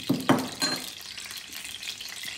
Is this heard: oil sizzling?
yes